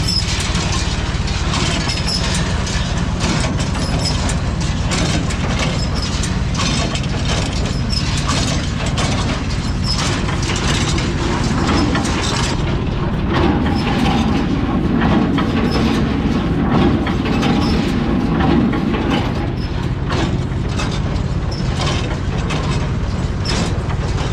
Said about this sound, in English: Here's the baler running.